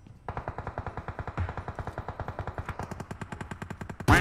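Rapid automatic gunfire from PUBG Mobile, a steady stream of loud, evenly spaced shots running almost the whole time, with a brief louder burst at the very end.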